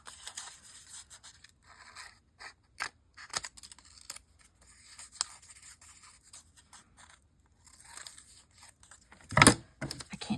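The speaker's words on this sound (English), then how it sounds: "Do that with big scissors." Large scissors snip through paper for a collage in a string of short, crisp cuts and rustles, close by and fairly quiet, with one louder crunching snip near the end.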